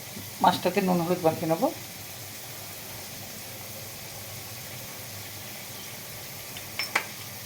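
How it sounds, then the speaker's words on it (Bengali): Taro pieces fry in mustard oil with a soft, low, steady sizzle, faint in the background. A voice speaks briefly near the start, and a short sound comes near the end. "সর্ষের তেল আমি কচুগুলোকে আগে ভেজে নেবো"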